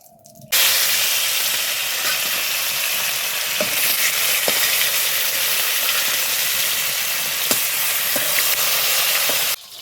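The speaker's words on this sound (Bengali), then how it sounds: "মাছগুলো ভাজা হতে হতে বন্ধুরা আমি আপনাদের মশলাগুলো দেখিয়ে দিই" Rohu fish steadily sizzles and hisses in hot oil with a little salt, a loud continuous frying crackle close by with a few faint utensil clicks, lasting almost the whole stretch with no talk.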